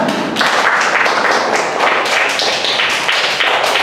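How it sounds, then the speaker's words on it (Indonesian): Students in a classroom clap for a classmate, a close, loud burst of uneven hand claps that keeps a fairly steady, bunched rhythm for a few seconds. "Oke, tepuk tangan dulu untuk Zora."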